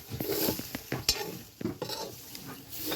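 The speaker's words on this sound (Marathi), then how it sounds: "आता हे खोबरं पण चांगलं असं भाजून घेणार" Grated coconut roasts in a pan, with dry sizzling and repeated scraping and clinking of a spatula against the metal in an irregular stirring rhythm, close and fairly quiet.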